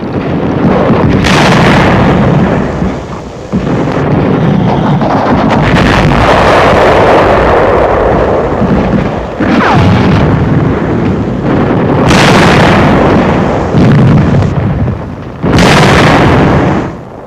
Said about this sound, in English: The tank suffers a direct hit, and the crew leaps from the flames.